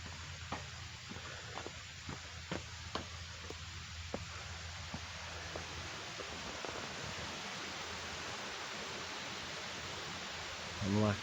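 Hemlock Creek flowing along a trail near an old picnic area, a steady broadband wash of running water with faint clicks and rustles in the first half, continuous and moderately distant.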